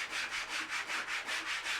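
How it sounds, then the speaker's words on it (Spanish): A craftsman hollows out the inside of a wooden screw with an adze, making steady, evenly spaced rasping scrapes, about four a second, close and fairly quiet with no talk. "Rebajando con la zuela tornillera y calculando con sus dedos el grueso de la pared"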